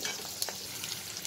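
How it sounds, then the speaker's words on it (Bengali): Capsicum frying in a hot pan while being stirred, a brief burst of bright crackling sizzle with a quick scrape of the spatula, close and alone. "ক্যাপসিকামগুলো দিলাম, কিন্তু এবারে একটু ভাজা ভাজা হোক।"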